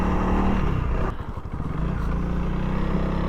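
A Honda CRF300L dual sport motorcycle climbs a loose, rocky trail, its engine droning close by with a brief dip and clatter midway before pulling on again.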